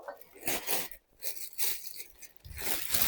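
A plastic bag crinkles and rustles close by while a folding bungee rebounder is unpacked, with irregular bursts of crackling handling noise and short pauses.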